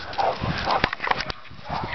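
An excited pet dog makes a quick run of yips and short barks mixed with sharp clicks and rustling, close and lively, with no talk.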